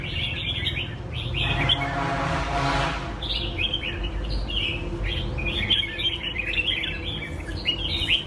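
Red-whiskered bulbuls sing in a bird competition, bright chirping phrases repeating throughout over a busy crowd murmur, with a brief rushing noise partway through.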